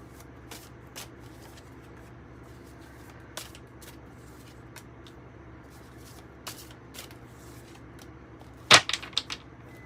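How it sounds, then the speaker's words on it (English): Tarot cards shuffled by hand: soft scattered flicks and taps across a quiet room, ending in a louder burst of riffling near the end. "I have a feeling we're about to see with these cards about what is to come."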